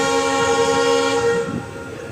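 Passenger train on the Thiruvarur line between Mayiladuthurai and Karaikudi, a loud sustained horn blast heard close, then fading into running rumble.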